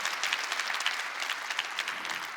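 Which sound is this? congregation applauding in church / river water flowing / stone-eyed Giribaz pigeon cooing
congregation applauding in church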